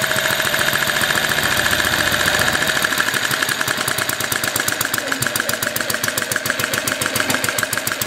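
A small single generator engine runs fast with no bulb load, producing a loud, steady, rapid mechanical chatter that holds throughout, close up and with no talking.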